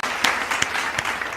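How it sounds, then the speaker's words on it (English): A round of applause from a small group, a steady patter of clapping with a few sharper claps standing out, fairly close and continuous through the clip. "It was just a round of applause"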